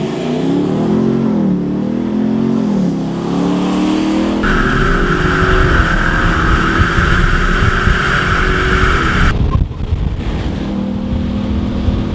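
During a South African street drag race, a RAM 1500 with a 6.4 HEMI and rival pickups rev and accelerate loudly, with rising engine tones, a steady high whine and heavy wind buffeting on the microphone throughout.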